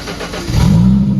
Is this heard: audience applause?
no